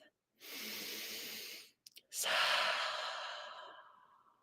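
Two long, deep breaths during a calming breathing exercise, a slow audible inhale followed after a short pause by a longer, breathy exhale that fades out, close and quiet.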